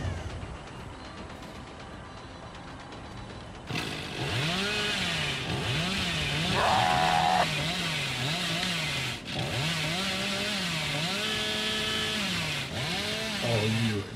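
Hillbilly's chainsaw from the video game Dead by Daylight revs up partway through and keeps droning loud and close with a wavering pitch, over a quieter hum at the start and no talking.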